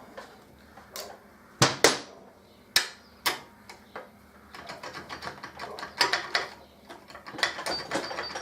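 Ratcheting wrench clicks while torquing bolts on a Harley-Davidson Deuce motorcycle, close and fairly clear, with a few sharp louder clacks early and then a faster run of small ticking ratchet strokes, no talk.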